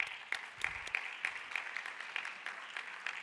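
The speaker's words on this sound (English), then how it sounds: "So may we please give them another round of applause." Audience at the T20 South Africa Summit gives a round of applause, heard as faint, sparse, distinct claps from a handful of people spaced across the moment in a large hall.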